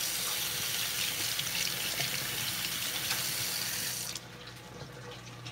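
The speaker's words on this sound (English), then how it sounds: "I'm gonna wash my hands real quick." Tap water runs steadily into a sink as hands are washed, a continuous close splashing hiss that drops in level near the end as the flow is reduced.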